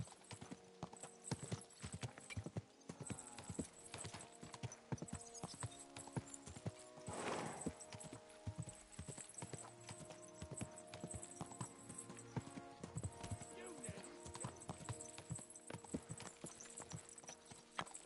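Rhythmic clip-clop of horse hooves trotting steadily in Kingdom Come: Deliverance II, close and continuous, with a brief swell of noise midway.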